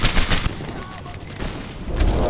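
Thompson submachine gun firing in Medal of Honor: Airborne, rapid bursts of loud gunfire with a lull in the middle, heard under a voice talking.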